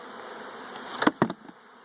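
Honey bees around a hive from a swarm trap drone in a steady, soft buzz, broken by a couple of brief louder knocks.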